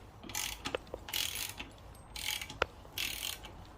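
A Honda Prelude/Accord 2.2L crankshaft spun by hand in the bare engine block, giving several quiet bursts of whirring, clicking metal rotation with small knocks between them, close and soft.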